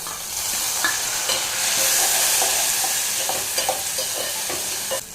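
Onions sautéing in a pan for a barnyard millet and bottle gourd sambar rice, a continuous soft sizzle broken by repeated light spoon scrapes and taps, fairly close and steady.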